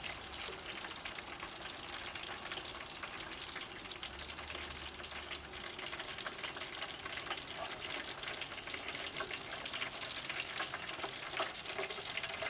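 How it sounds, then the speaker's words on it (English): Hot trap wax bubbles and crackles steadily, a soft continuous sizzle dotted with small pops, close and fairly quiet. "your wax will start popping and cracking and boiling a little bit"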